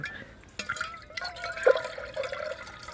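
Water trickles and drips into a Swedish Army mess pot outdoors at a wood camp, a soft uneven pour with a few louder splashes, close by and without talk.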